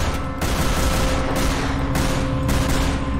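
Loud, sustained bursts of gunfire in the video game Biohazard fill the clip, rapid repeated shots rolling together with brief breaks between volleys, no voices.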